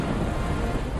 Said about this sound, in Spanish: se forma una increíble tormenta que no solo descarga unas lluvias torrenciales